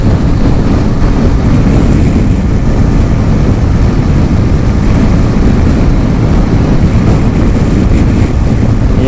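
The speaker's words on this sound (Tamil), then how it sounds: "காத்து பயங்கரமான காத்தடிக்குது." Strong wind roaring over the microphone, a loud, dense, unbroken rumble and buffet with no pauses, heard alone on a road trip through Tamil Nadu.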